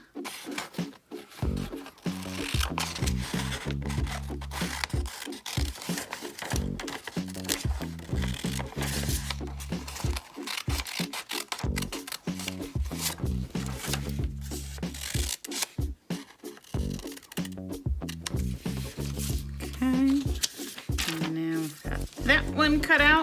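Scissors snip a castle wall line through paper in quick, repeated close cuts with paper rustling, as someone talks softly over them.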